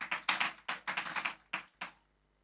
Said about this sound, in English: Give yourselves now, graduates, a round of applause